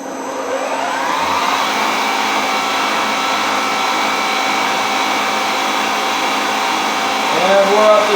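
A Cincinnati milling machine running flat out at 1530 RPM in its highest gear gives a loud, steady mechanical whine and hum, alone and unbroken, rising slightly near the end.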